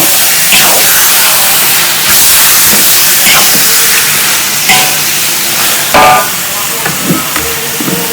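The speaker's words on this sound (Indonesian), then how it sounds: "Aduk-aduk dulu supaya tidak gosong ya." Saksang pork, about five kilos with blood-based seasoning, frying and being stirred in a pan, giving a loud, steady hiss and sizzle with scraping strokes of the spatula throughout.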